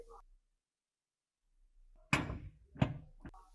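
A hinged door on a greenhouse swinging on its frame, heard as a thud followed by two further knocks and rattles, fairly close, with no talking.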